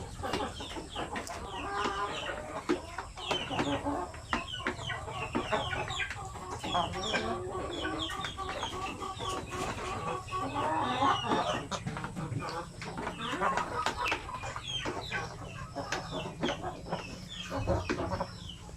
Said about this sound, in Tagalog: Basta ganito mga manok, mga malalaking manok, hindi pumipili sa pagkain.